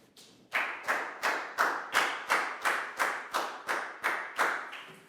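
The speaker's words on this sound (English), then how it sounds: "Big round of applause for Dan" A Year 4 maths class claps in unison, with about twelve even, evenly spaced group claps that sound close and fairly loud.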